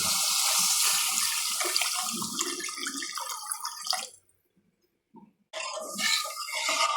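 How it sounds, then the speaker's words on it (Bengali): Water pours into a pan of fried spice paste for a rupchanda pomfret do-pyaza, a loud, rushing splash for about four seconds that stops briefly, then resumes, with no talking. "মশলাটা কষানো হয়ে গেছে এখন আমরা জলের জন্য সামান্য পরিমাণ পানি দিয়ে দেবো"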